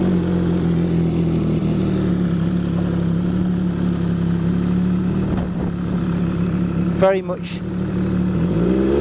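An MV Agusta F3 800 motorcycle engine runs loud and steady with a throaty mid-range drone while being ridden, and a brief throttle blip near the end; a rider talks briefly over it.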